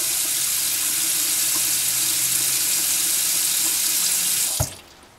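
A bathroom sink faucet runs hot and cold water in a steady, close, hissing stream that stops abruptly near the end.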